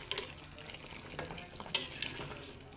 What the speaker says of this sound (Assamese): এইখিনি কিমান ধুনীয়াকৈ উতলি আছে কচ মাছখিনি।